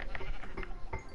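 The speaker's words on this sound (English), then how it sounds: "Oh, sheep." A blocky Minecraft sheep lets out a brief bleat, short and somewhat muffled within a busy, noisy game mix where players chatter nearby.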